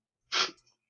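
One quick sneeze from a podcast guest with allergies, a sharp close burst followed by a faint breathy tail, then silence before talk resumes.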